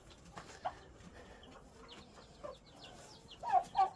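Hens and chicks cluck softly in scattered short calls, with a few sharper, louder clucks toward the end, heard faintly and close in an otherwise quiet yard.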